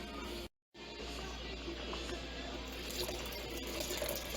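A continuous rush of water poured into a cooking pot splashes and gurgles steadily, briefly cutting out near the start before resuming and pouring on.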